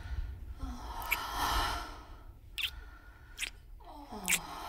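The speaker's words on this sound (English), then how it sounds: "that's some loud breathing there" An injured video game character breathes heavily and raggedly in soft, wet gasps and sighs, close and fairly quiet, with short sharp bursts between slower breaths.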